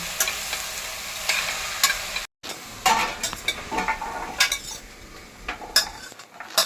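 A vegetable curry is stir-fried in a pan, with soft sizzling under repeated spatula scrapes and clatters against the metal. The sound is broken by a brief gap, then irregular stirring knocks continue up close.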